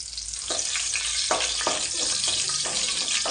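Chopped chilli dropped into hot oil, a bright close sizzle with several bursts of crackling and what sounds like stirring over a low hum, brief and fairly loud.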